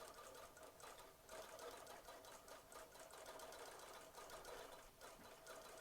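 A Bernina Q20/Q24 sewing machine on a Bernina Q Pro quilting frame stitches through a layered quilt, giving a faint, steady mechanical hum and needle chatter with no voices.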